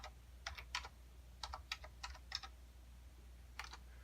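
Several short bursts of typing on a computer keyboard while entering statistics into a spreadsheet data table, with quiet clicking clusters spaced across the clip over a low steady hum.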